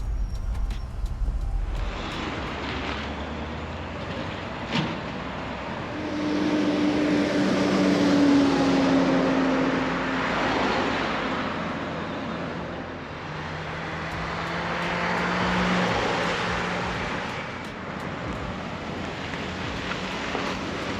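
A 1989 Dodge Ram D200 pickup on a road test, engine droning and rising and falling with gear changes, tire and wind noise filling in around it, steady and fairly loud from inside the cab, with no talking.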